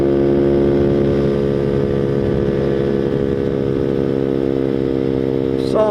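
Grom-clone Boom Vader small motorcycle ridden along, its engine droning steadily with strong harmonic whine throughout, close and loud, with wind rush.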